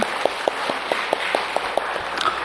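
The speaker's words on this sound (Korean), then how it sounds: "영광의 박수를 주님께 돌립시다" A church congregation claps along in a steady, evenly spaced rhythm, each sharp clap cutting through a constant background hum, moderately loud and without any voices.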